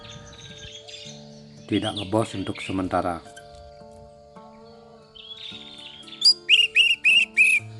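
An orange-headed thrush (anis merah) sings a run of bright, sharp whistled chirps near the end, loud and close, after stretches of someone talking over other faint birdsong.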